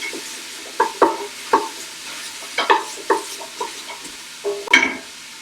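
Onions fry in a pan while being stirred: soft scraping and clacking stir strokes come in irregular bursts over a quiet, faint sizzle, close up.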